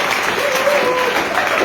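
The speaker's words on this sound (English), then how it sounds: "some of you are clapping and getting excited" An audience clapping at an inspirational talk, dense steady applause filling the hall, fairly loud and continuous with no break.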